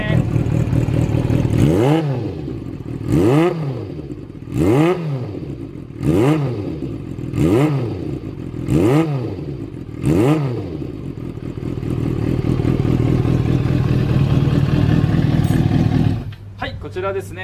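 A Kawasaki ZRX400 motorcycle with a chrome collector exhaust revs repeatedly, seven sharp blips rising and falling in a steady rhythm, then settles to a loud idle before a brief cut near the end.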